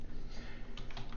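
Brief, quiet burst of typing on a computer keyboard, a few soft key clicks clustered together in a short stretch.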